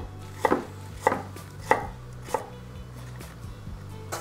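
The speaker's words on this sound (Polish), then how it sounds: "Dlaczego kroję w tak drobną kosteczkę?" A knife chops potatoes into small cubes on a cutting board, four distinct sharp knocks at a steady rhythm, close and clear with no talking.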